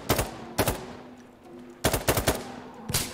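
Shotgun firing incendiary rounds in Insurgency Sandstorm, several sharp close blasts in uneven bursts, some in quick doubles, separated by short quiet gaps with faint background rumble.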